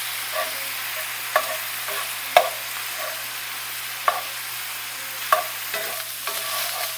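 Meat for tacos browns in a hot pan with a constant close sizzle, punctuated by a handful of sharp spatula taps and scrapes.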